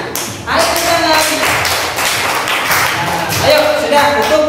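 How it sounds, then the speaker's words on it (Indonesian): Classroom of fourth-grade pupils clapping for a group that just presented, a dense patter of many hands under a teacher's voice, swelling near the start and again toward the end. "Yo, tepuk tangan yo, buat kelompok 3."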